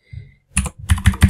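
Quick keystrokes on a computer keyboard, a short burst of about six close, crisp clicks in an uneven typing rhythm with no voice over them.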